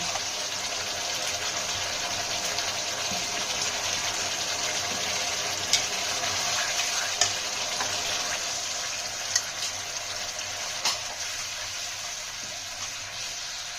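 Water pours into hot oil in a frying pan while cooking yogurt katla fish curry, giving a steady, loud hissing sizzle with a few sharp crackles and pops.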